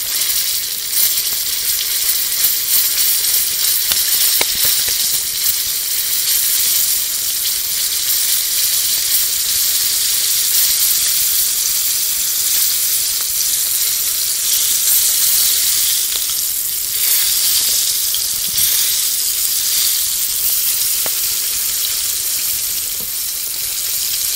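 Running tap water washes over a freshly caught bullfrog during cleaning, a steady broadband hiss of flowing water that stays loud and even throughout with no talk.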